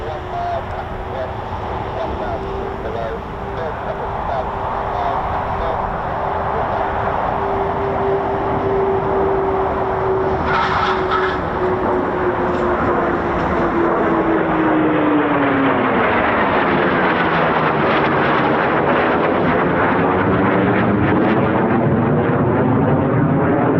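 An aircraft from RAF Lossiemouth roars in loudly and close, its engine drone holding steady and then sweeping downward in pitch as it passes, with people talking nearby.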